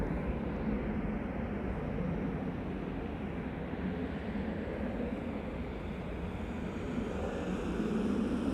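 Departing airliner climbing almost directly overhead at Amsterdam Schiphol Airport, a deep, steady engine roar that holds loud and unbroken across several seconds with no voices.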